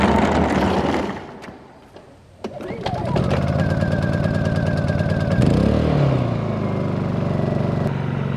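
A Honda pull-start engine is yanked once, catches and settles into a loud, steady close-up running drone with a slight pitch shift near the end.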